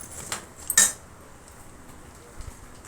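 A spoon scrapes and clinks against a kadhai while chivda is stirred and roasted, with a couple of sharp metallic knocks near the start and then quiet shuffling.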